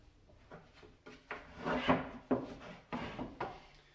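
A 1/4-inch bolt slides through aligned holes in a wooden drawer and its supports in a Subaru Forester camper build. The close, quiet rubbing and knocking builds into a grinding scrape, followed by a few short taps.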